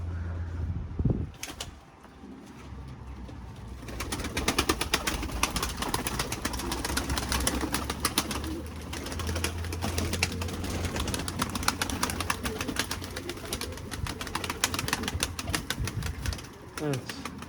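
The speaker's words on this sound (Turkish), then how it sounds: "Kuşlar da bakın alçakta uçuyor." Pigeons coo and flutter nearby in hot, humid weather over a steady low hum, with occasional wing flaps and soft scraping sounds throughout.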